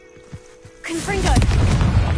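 Confringo blasting spell explosion in Hogwarts Legacy, a few quiet thumps then a sudden loud booming blast that rolls on as sustained rumble, with a voice speaking at the moment of the blast.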